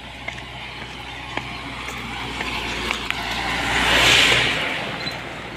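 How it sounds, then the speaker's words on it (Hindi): A car drives uphill along a road in Ralamandal wildlife sanctuary near Indore. A steady engine and road drone swells louder for a moment near the end, with faint knocks over it. "अरे तो ऊपर ही कार लेके जा रहे यार"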